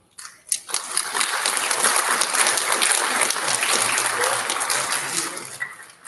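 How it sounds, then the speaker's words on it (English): An audience at the Palmer Elementary student recognition ceremony breaks into applause. The clapping swells within half a second, holds as a dense, even round for about five seconds, then tapers off. "Big round of applause"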